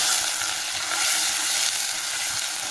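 Curry leaves and dried fish frying in hot oil, a steady, dense sizzle that holds evenly throughout at close range, with no voices.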